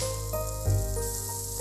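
Achappam rose cookies frying in hot oil for a traditional Kerala snack, a steady close sizzle and bubbling hiss running throughout with a brief louder surge partway through.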